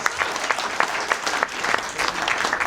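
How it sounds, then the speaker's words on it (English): An audience applauds, a dense patter of clapping hands with rhythmic surges, steady and fairly close, with no voices rising above it. "Give him a big round of applause, everybody!"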